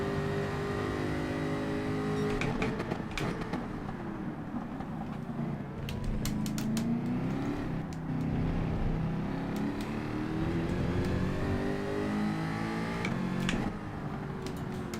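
A Group 3 race car from Gran Turismo 7 laps Fuji International Speedway, its engine note rising and falling through gear changes at moderate level, with faint clicks over the revving and no talking.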